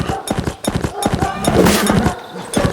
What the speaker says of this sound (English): We're gonna push enter to get on the horse when it hits your shield, and you ride the horse.